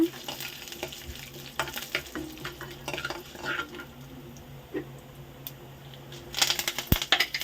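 Mustard seeds, chana dal and urad dal sizzle and crackle in hot oil with curry leaves, a spoon stirring and scraping the pan, close and steady.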